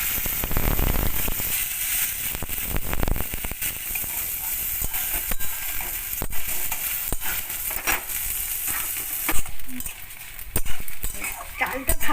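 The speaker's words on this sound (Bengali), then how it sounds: "চালটা ভাজা হয়ে গেছে" Washed Gobindobhog rice fries in mustard oil and ghee in a wok, making a continuous close hiss and sizzle with scattered clinks and scrapes of stirring.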